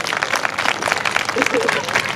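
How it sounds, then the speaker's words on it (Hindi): A church congregation at a Good News Festival claps hands together in praise, a dense run of sharp crowd clapping that keeps going throughout, mixed with a speaking voice. "ताली मारकर परमेश्वर को महिमा करेंगे।"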